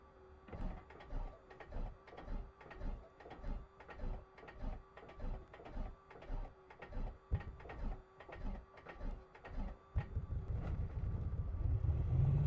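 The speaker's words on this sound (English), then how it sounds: "now we can start to engage the mags and crank" A vintage piston aircraft engine cranks over in the A2A Accu-Sim flight simulator, laboring in a steady rhythmic chug of about two beats per second before catching into a continuous rising roar near the end.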